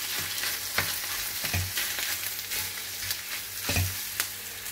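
Ground meat sizzles and fries in a pan for sweet-style Pinoy spaghetti with meatballs, a steady loud crackle broken by periodic scraping stirs, with no talking.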